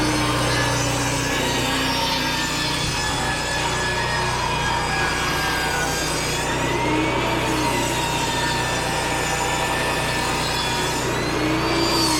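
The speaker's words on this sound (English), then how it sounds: "on the table saw, cutting the live edges off the 1-bys" A table saw rips the live edges off rough 1-by boards at an off-grid roof build, a loud, continuous whine and rasp of blade through wood held steady and close for the whole stretch.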